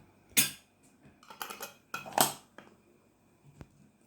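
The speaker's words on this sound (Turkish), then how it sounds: "Şimdi kapağını kapatıyorum." A lid closed on a jar of home-dried tomatoes: a sharp clatter, then a series of clinks and scraping twists of the lid, a final loud knock and a few light taps, all close and with no talking.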